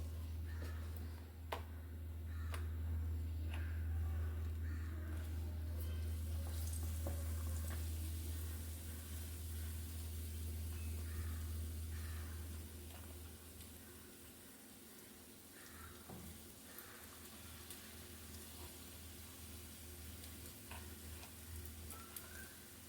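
Potato slices coated in gram flour batter fry in oil with a soft, continuous sizzle and bubbling, occasional light clinks and stirring, fairly quiet and steady throughout.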